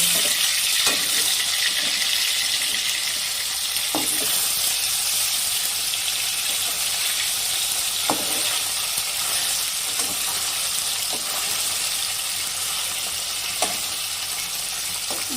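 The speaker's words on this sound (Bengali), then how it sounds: "মাছগুলো আমি লাল করে এক পাশ আগে ভেজে নিব" Bele fish frying in a pan of oil makes a steady, close sizzle, with occasional soft clinks and stirring knocks recurring every few seconds and no talk.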